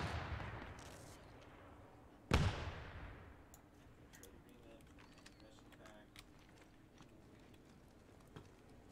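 In a first-person shooter match, one loud nearby gunshot cracks out, then a string of faint, scattered distant pops follows over a low background hum.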